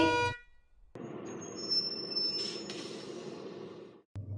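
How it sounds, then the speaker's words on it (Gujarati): A school bus horn sounds, with a sustained tonal blare at the start and a steady vehicle rumble under it, fairly close and fading out near the end. "બસનું હોર્ન સંભળાય છે"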